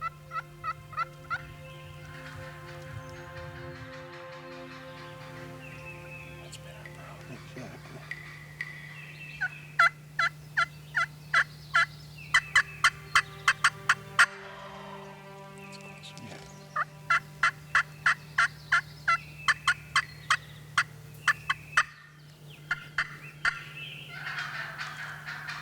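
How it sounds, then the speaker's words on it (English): Wild turkey gobbler gobbling in repeated rapid bursts over a steady low hum, with long stretches of rattling gobble notes, fairly close and clear, no talk. "while Chad Kilmer continues to play on the aggressive nature of an irate hen, all in hopes of firing up an old gobbler"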